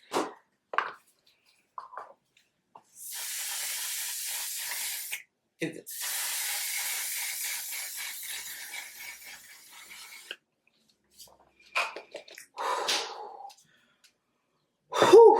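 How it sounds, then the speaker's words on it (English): Two long hissing bursts of spray from a can, each a few seconds, with brief breathy exclamations and small handling noises between. "This is like aerosol in a can."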